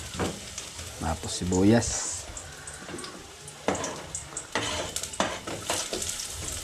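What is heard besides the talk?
sautéing ginger then onion in a pan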